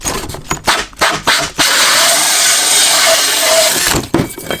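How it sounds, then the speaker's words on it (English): An 80mm hole saw on a drill grinds steadily through wood for a few seconds, loud and close, after some brief knocks and clicks as it starts. "Let's drill right through here."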